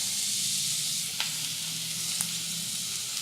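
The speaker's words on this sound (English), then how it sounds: "Listen to the sizzle." Angus beef sizzles steadily in a hot grill pan, a continuous bright frying hiss with a couple of sharp crackles.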